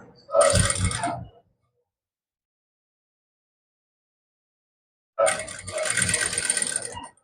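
A sewing machine stitches a heavy, large-size suit in two short mechanical whirring bursts of about a second each, separated by silence.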